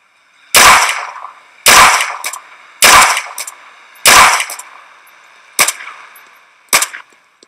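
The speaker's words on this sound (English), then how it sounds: "It's a powerful gun." Powerful gunfire in the video game Ravenfield, six loud sharp bursts spaced roughly a second apart, each a short cluster of close shots with a brief ringing tail.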